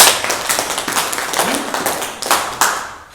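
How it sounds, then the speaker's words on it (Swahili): An audience at a validation meeting breaks into loud, close applause, with a dense burst of clapping that swells and ebbs in uneven waves for about three seconds. "Simpige makofi."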